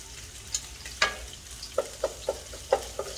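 Shrimp stir-frying in a hot pan with ginger and garlic added for Hokkien noodles: a soft steady sizzle broken by a series of distinct clinks and scrapes of a utensil against the pan, close and without talk.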